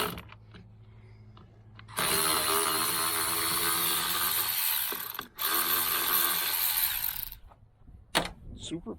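A ratchet turning a 6-point socket on a vintage Polaris triple snowmobile engine, with a loud close buzzing of pawl clicks in two long bursts separated by a brief pause.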